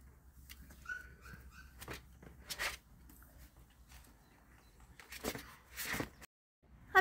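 Four-week-old puppies outdoors give a few faint, high whimpers and whines early on, mixed with soft rustling and low background noise.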